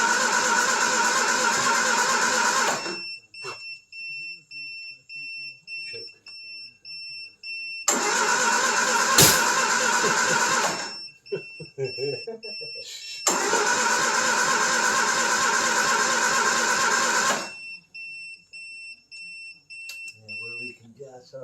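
The engine of a 1974 Triumph Spitfire cranks and tries to catch in three long, loud bursts of several seconds each, separated by pauses in which people talk quietly; the car is leaking fuel from underneath.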